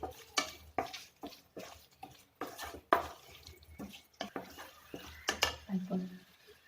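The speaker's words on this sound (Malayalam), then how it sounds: "നന്നായി ഒന്ന് മിക്സ് ചെയ്യുക." A spoon stirs beef curry in a pan, making a quiet run of rhythmic scraping and clinking strokes, each one soft and close.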